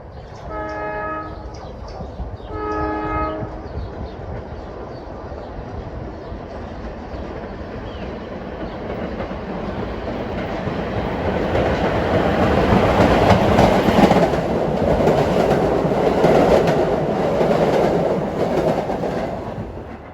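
A Staten Island Railway express commuter train passes the station at evening rush hour, opening with two horn blasts, then swelling into a loud, close roar and rattle of cars rolling by.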